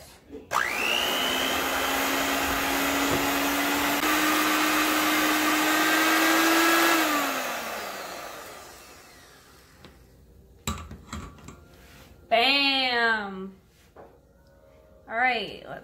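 An electric mixer beats cupcake batter, its steady high whine running about seven seconds before spinning down. Afterwards there are a few clatters and someone speaking.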